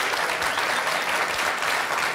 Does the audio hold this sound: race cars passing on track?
no